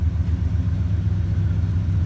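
Yamaha YFZ 450 ATV with a Flowmaster 40 exhaust, warmed up and idling with a steady, close, low throbbing rumble and slight rev swells, no talking.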